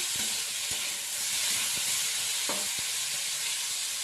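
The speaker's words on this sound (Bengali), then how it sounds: "প্রথমে আলু পেঁয়াজটাকে একটু ভেজে নিচ্ছি ভালো করে" Potato and onion frying in a pan with very little oil, a steady broadband sizzle with a few soft stirring knocks, close and alone with no voices.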